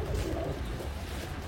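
Abluk pigeons coo softly in a brief, low, murmuring burst that trails off into faint background noise.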